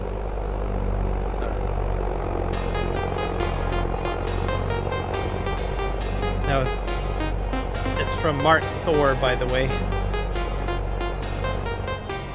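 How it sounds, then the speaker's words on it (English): Ford tractor engine in Farming Simulator 25 running steadily throughout, a low droning hum with a mechanical buzz, while someone talks over it. "This is a Ford tractor."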